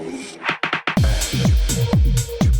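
A beat transition effect in Maschine: a rising swept noise with a few stuttered hits, then a punchy drum fill of booming kicks and snares rolling forward, loud and close with no talking.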